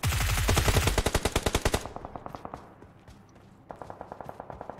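Rapid bursts of automatic gunfire in a battle royale video game, a dense fast volley that thins out, pauses, then resumes with a shorter, quieter string of shots.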